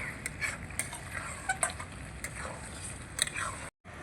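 Ridge gourd cooked with yogurt being stirred in a pan, a soft low sizzle under light, irregular scrapes and taps of a spoon against the metal, fairly quiet and close.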